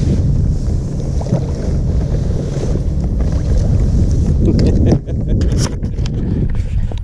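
Strong wind gusts across a lake during a kayak bass fishing outing, a loud, steady roaring rumble buffeting the microphone with some splashing and handling noise, no speech.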